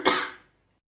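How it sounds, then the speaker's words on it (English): A single short cough during a clinical examination, close and fairly loud, fading quickly into silence. "Please could you cough?"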